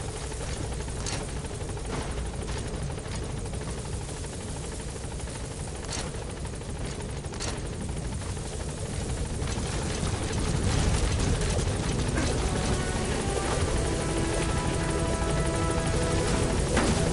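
A helicopter lifts off in Metal Gear Solid V: The Phantom Pain, its dense rotor roar and engine whine steady at first, then swelling louder as it gains altitude, with no voices.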